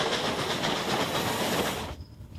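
A Western Maryland Scenic Railroad train rolls past on a curve with a loud, rhythmic clatter of wheels over the rail joints and a hissing rush. The noise drops away abruptly near the end as the cars move off.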